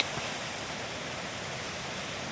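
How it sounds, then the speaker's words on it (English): Rushing water from a series of small waterfalls on Red Tarn Beck, a mountain stream, heard as a steady, dense, close roar with no other sounds. "Nice wee series of waterfalls."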